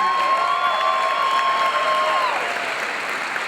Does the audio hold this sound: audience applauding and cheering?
yes